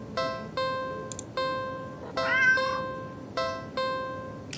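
A cat meows in a video game, with a few short notes spaced at regular intervals and a longer wavering cry in the middle, clear and close over a light background hum.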